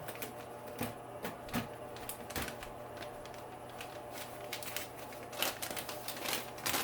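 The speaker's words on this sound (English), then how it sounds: "So we just remove it from the newspaper. It just peels right away." Machine-embroidered fabric being peeled off a newspaper backing, close crinkly paper rustling and tearing with scattered sharper crackles, quiet and steady without talk.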